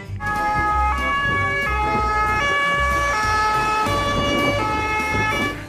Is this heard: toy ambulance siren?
yes